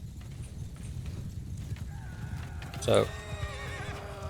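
Cavalry horses charge in the video game Mount & Blade II: Bannerlord, with one loud, close whinny over a steady clatter of hooves and battle noise. A voice speaks briefly.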